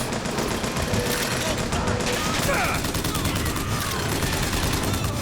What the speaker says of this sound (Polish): Dużo, strasznie dużo krytycznych strzałów.